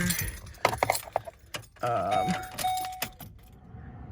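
Keys jingle and clink in the ignition of a 2007 Ford Explorer Sport Trac, followed by a steady hum and a chime tone as the dash powers on, close and moderately loud.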